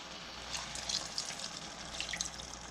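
Water poured into a pot of mutton curry gravy, about a quarter cup, a steady close trickling splash with light bubbling, no voices.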